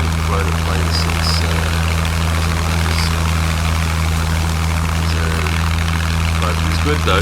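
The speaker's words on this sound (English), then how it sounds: "I haven't flown a plane since." A propeller plane engine in the survival video game SCUM drones steadily and loudly in flight, with a constant low hum throughout and faint chirpy background sounds layered on top.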